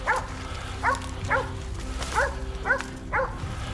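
Hunting dogs barking during a wild boar hunt outdoors, six or so sharp barks and yips spaced about half a second apart over a steady background rumble, fairly close.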